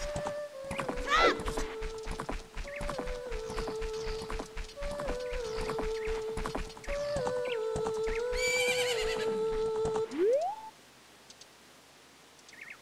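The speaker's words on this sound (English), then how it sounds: "That horse really likes me." Video game horse from Ocarina of Time whinnies and neighs in tonal calls over steady clip-clopping hooves, with game music tones and clicks, then everything drops away near the end.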